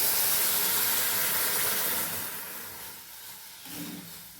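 Milk pours into a hot pan holding vermicelli and sugar, giving a loud steamy hiss and sizzle that gradually fades and settles.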